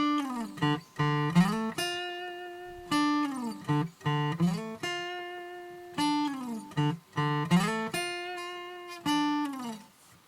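The opening bass riff of a song is played on a guitar, clean, sliding notes in a repeating, sparse phrase with pauses between repetitions, heard alone and moderately quiet.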